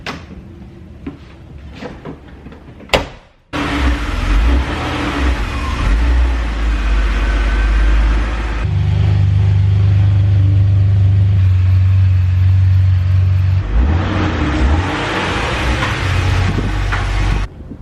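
Car engines idle and rumble steadily in a garage as vehicles are moved in and out, loud and close, starting after a few clunks and a door bang, with the pitch shifting as the engines rev.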